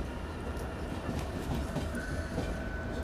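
A passenger train rolls along the rails, giving a steady, close rumble with faint rhythmic clicks that runs unbroken throughout, with no voices.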